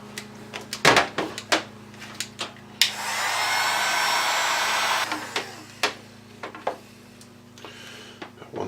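A heat gun blows a steady hissing rush of hot air for a few seconds while shrinking heat-shrink tubing onto a light bar's plug connector, set between scattered clicks and handling knocks.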